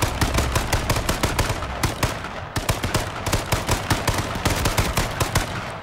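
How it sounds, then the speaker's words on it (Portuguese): Bursts of automatic gunfire in H1Z1, loud and close, a steady rapid string of sharp shots with one brief pause midway, no talking over it. "Atira."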